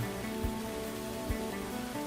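Rain falling at Victory Monument, a steady dense patter of drops on surfaces with a few louder splashes, continuous and fairly close.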